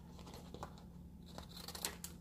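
Scissors cutting paper for a fitness planner spread, a few quiet close snips and soft paper rustles over a low hum, very faint, no talking.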